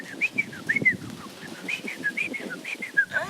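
A yellow-bellied gerygone sings in a forest park in Nouméa, a thin, high repeated warbling phrase with squeaky rising and falling notes that recurs every half second or so, moderately close over faint background noise.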